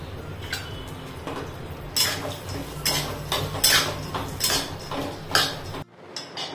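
Cashews roasting in a spoonful of oil in a pan for gum laddoos, heard as a soft frying hiss under repeated clinks and scrapes of a utensil against the pan, close by, ending in a sudden stop.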